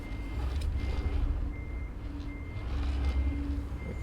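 A truck backing up near a wall, its reversing alarm beeping steadily at a regular pace over a low, continuous engine rumble, fairly close and moderately loud, with no talking.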